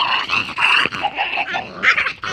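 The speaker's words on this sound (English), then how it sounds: "A dog. Ah, the dog." A dog in a video game growls and yelps in a rough, snarling run of bursts, loud and close, with whimpering tones between the growls.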